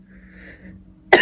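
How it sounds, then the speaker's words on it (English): A single sharp, loud cough bursts out at the very end after a stretch of quiet room hum. "this cough, man, it's no joke."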